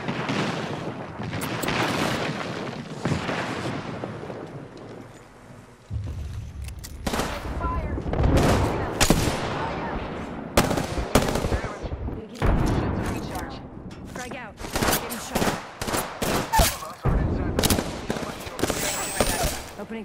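Gunfire in the video game Apex Legends crackles in rapid bursts and scattered single shots, loud and close, with heavier booms mixed in throughout the twenty seconds as voices talk over parts of the action.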